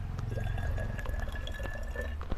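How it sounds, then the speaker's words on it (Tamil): Water is poured from a container into a bottle for a homemade hydrogen balloon experiment, making a close, continuous splashing trickle with small drips. "தண்ணி எடுத்து ஊற்றிக்கிறோம்."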